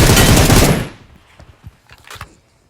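An Uzi submachine gun in a video game fires a loud, dense close-range burst of rapid shots, which cuts off and is followed by scattered fainter distant shots and clicks.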